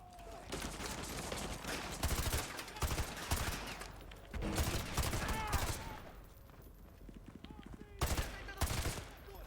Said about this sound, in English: I'm just shooting everybody.